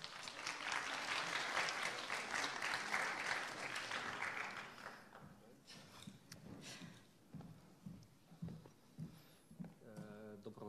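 Cinema audience at a film screening and meeting with the director applauds for about five seconds, a full, even wash of clapping that fades as a voice begins speaking over quieter room sound.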